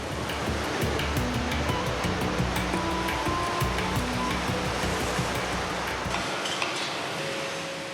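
Enormous waves pound through a port, a loud dense roar of surging water with clattering tones underneath, continuous and close, easing off slightly near the end.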